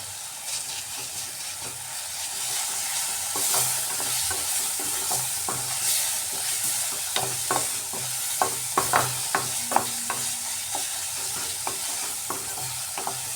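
Chopped ginger and masala fry dry in a pan for egg tikka masala, a steady sizzle under frequent spoon scrapes and taps that grow busier toward the end.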